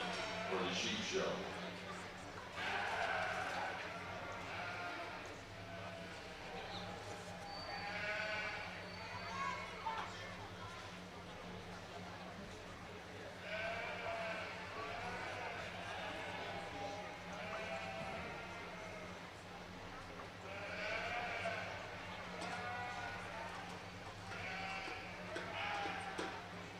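Sheep bleat repeatedly at a livestock show ring, several loud wavering calls rising over a steady hum and background murmur, with an announcer talking through much of it.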